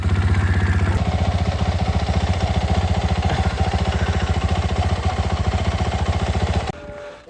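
A KTM motorcycle engine running at a steady, fast chug, loud and close, continuous for several seconds before cutting off abruptly near the end.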